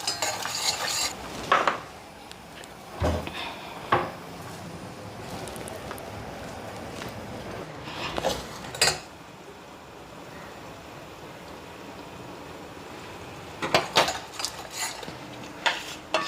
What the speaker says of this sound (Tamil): பட் இன்றைக்கி நான் ஃப்ரெஷ் தேங்காய் தானே எடுத்தேன், அதனால் அந்த கொஞ்சம் ஈரப்பதம் போகிறதுக்கு வறுத்துக்கிறேன்.